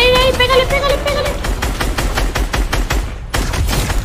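Rapid bursts of gunfire in a Fortnite match as a player fires at an opponent, loud sharp repeated shots in a fast irregular fusillade, a brief pause near the end before more shots resume.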